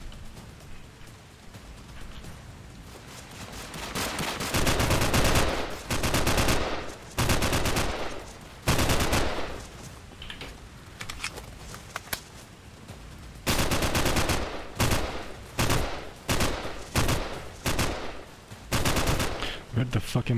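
Bursts of automatic gunfire in the indie action FPS Frost League, loud rapid volleys broken by short pauses, with quieter stretches between firefights.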